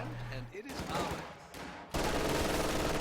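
Machine gun fire in a multiplayer war strategy match rattles in dense bursts amid battle noise, with a commentator's voice heard over the opening moments.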